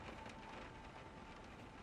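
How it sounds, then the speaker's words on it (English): Steady rain ambience from Dead Space Extraction, a soft, even hiss of falling drops heard faintly with no other sounds. "Nice rain sounds."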